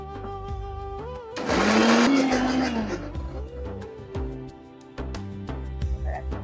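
A kitchen mixer grinder whirs loudly as it blends eggs and milk, starting abruptly, running for a couple of seconds with a rising whine, then cutting off as music plays softly underneath.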